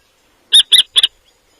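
A mother kestrel at the nest gives three sharp, shrill calls in quick succession, close and loud against silence, as if alarmed by a threat.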